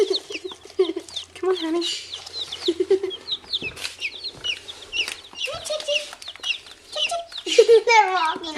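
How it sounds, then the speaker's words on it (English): Baby chicks cheeping in bright high peeps and chirps while being fed their first meal, with a soft spoken voice and some rustling around them. "it's time to feed our chickies for the first time"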